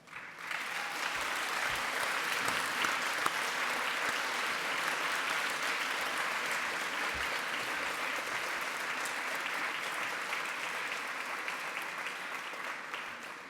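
An audience at a graduation ceremony applauds, a dense, steady clapping that swells up and holds evenly throughout.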